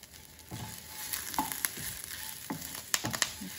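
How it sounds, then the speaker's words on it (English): Whole tamarind and other ingredients sauteing in a pan, a soft steady sizzle broken by scattered stirring scrapes and clinks, close and fairly quiet with no talking. "Just gonna saute it for about 45 seconds or so."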